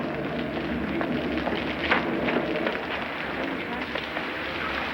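Rain falls steadily in a film scene, a soft continuous patter and hiss with faint scattered drips, moderately quiet and unbroken throughout.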